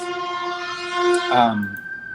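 A passing ambulance siren, a sustained wailing tone that bends downward as it moves past, heard fairly close with no talk over it.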